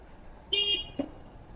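A brief, faint horn honk from a motorbike, one short beep followed by a quick second toot, set against quiet road noise.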